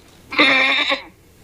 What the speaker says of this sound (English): what does a goat sound like?